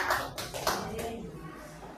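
A church congregation applauds the Lord in a short burst of clapping, several sharp claps at first that then blur into a softer, thinning patter, with voices present.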